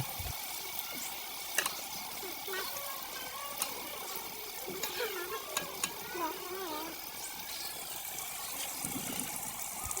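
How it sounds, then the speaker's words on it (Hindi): Saag greens and spices fry in a pan, a soft continuous sizzle with occasional scraping stirs and clinks, under a voice talking throughout. "मसाले को अच्छे तरीके फ्राई करने के बाद साग शामिल करेंगे।"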